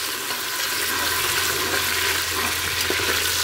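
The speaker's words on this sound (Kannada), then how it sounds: "ಅದನ್ನು ನಾನು ಹಾಕ್ಕೊಂಡು ಇವಾಗ ಸ್ವಲ್ಪ ಫ್ರೈ ಮಾಡ್ಕೊಳ್ಳೋಣ" Chopped tomato fries in oil for mutton biryani, giving a steady, close, hissing sizzle that holds at an even level throughout with faint stirring underneath.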